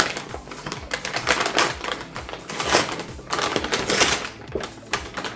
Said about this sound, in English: It's a paper pack. We can tear apart directly.